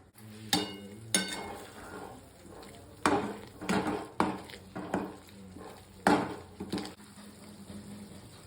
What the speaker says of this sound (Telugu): మధ్య మధ్యలో ఇలా కలుపుతూ ఉండాలి.